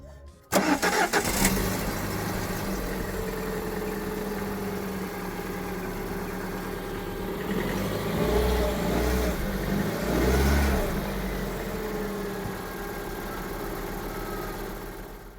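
A car engine fitted with fourth-generation gas fuel equipment cranks and catches, then settles into a steady close idle, with a couple of swelling revs partway through.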